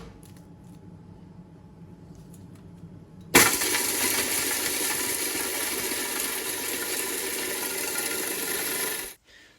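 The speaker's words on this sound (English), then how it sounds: "put them in a blender and start blending until the praline is liquid" A blender starts abruptly and runs at full speed for several seconds, grinding caramel pieces into a liquid praline with a loud, steady whirring roar before cutting off.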